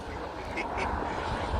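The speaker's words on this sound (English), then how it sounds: "So you can just spend your afternoon here watching the ducks" Ducks at Chew Valley Lake give two short quacks over a steady outdoor wash of wind and water, moderately near and not loud.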